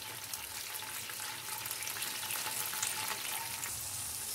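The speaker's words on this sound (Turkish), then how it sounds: "Salçalarımızı kavuralım. 2 yemek kaşığı kadar kaynayan köftenin suyunu ilave ediyoruz. Ve karıştırmaya devam ediyoruz." Tomato paste sauce with boiling meatball broth simmering and frying in a pan, giving a continuous close sizzle and bubbling hiss with a faint steady tone, no voices.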